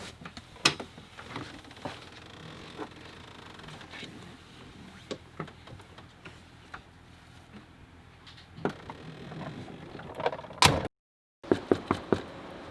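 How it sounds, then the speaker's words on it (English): An RV front door opens and closes amid scattered clicks and knocks of handling, with a louder latch clack near the end followed by a brief silence and a few sharp knocks. "I guess I just go out through the front door"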